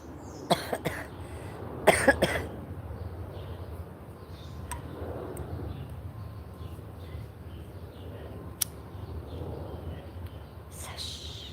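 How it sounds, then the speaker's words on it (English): A few faint throat-clearing coughs in a quiet room during a live broadcast, two short bursts early on and another near the end, with low background noise and possible soft murmuring. "Okay. Cough."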